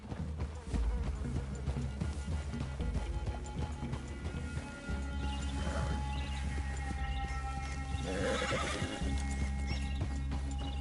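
Horses in Red Dead Redemption 2 whinnying loudly and snorting while hooves clip-clop and shuffle close by, with a steady low background hum throughout.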